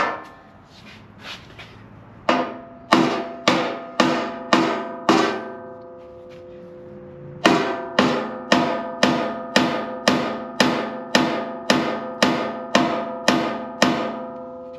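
Hammer pounds a custom metal tow plate in a steady series of about twenty sharp ringing strikes, each with a bright metallic decay, after a pause partway through.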